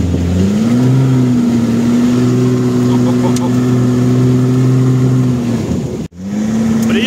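A Lada Niva pulls away at a steppe auto-moto competition, its engine droning loud and close with pitch climbing as it revs. The sound cuts out briefly near the end before the engine note resumes.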